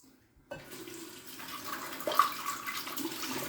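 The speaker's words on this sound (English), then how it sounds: "Rinse the lather out of the little ramekin I used" Steady tap water runs and splashes while lather is rinsed out of a small ramekin, a continuous close hiss that starts abruptly and holds without talk.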